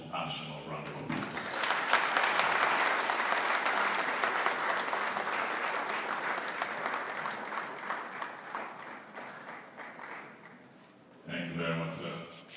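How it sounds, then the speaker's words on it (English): A conference audience at a banking and finance event breaks into loud, full applause that swells early and slowly tapers, with a speaker's voice briefly before and after the clapping. "we can give him a multinational round of applause"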